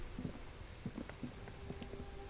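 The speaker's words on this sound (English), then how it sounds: "It's raining again." Soft video game rain in Disco Elysium patters steadily with faint scattered drops, quiet and even, with no voices.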